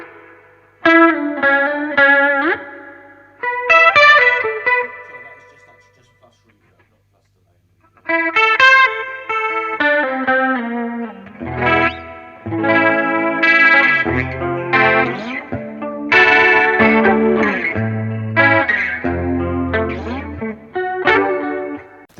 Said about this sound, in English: Then we've got plus delay and reverb.